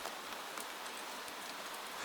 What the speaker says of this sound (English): The rain softens again as the walls gather close.